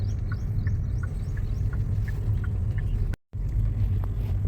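A manual car's engine runs steadily in third gear with a low, continuous rumble that cuts out for a brief moment before resuming.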